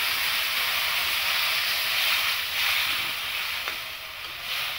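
Bhola fish simmering in a watery mustard and turmeric sauce makes a continuous soft hiss and bubbling, steady and close, with no voices.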